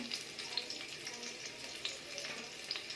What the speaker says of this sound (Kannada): ಎಣ್ಣೆ ಬಿಸಿಯಾದ ನಂತರ ಈ ಸಣ್ಣದಾಗಿ ಹೆಚ್ಚಿರುವಂಥ ಶುಂಠಿ ಹಾಕ್ತಾ ಇದ್ದೀನಿ